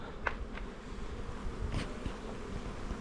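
Honeybees hum in a steady, dense drone close by, with a few sharper clicks and rustles scattered through the buzzing.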